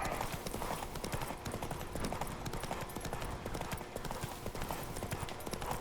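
Roach, a horse in The Witcher 3, gallops in a rapid, steady clip-clop of hooves with rushing motion, continuous and fairly close, with faint voice in the background.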